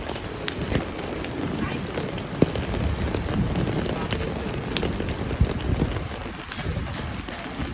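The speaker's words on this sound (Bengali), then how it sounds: "তো বৃষ্টি হচ্ছে" Steady rain patters on a hard surface, with scattered louder drops and a muffled voice now and then underneath.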